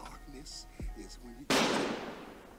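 A single sharp fireworks bang rings out after some quiet talking, sudden and loud with a lingering crackly decay.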